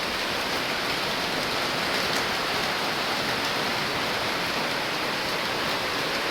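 Steady rain falls on a leaking house roof, a dense continuous hiss of drops without pause, close and even in loudness, with no voices.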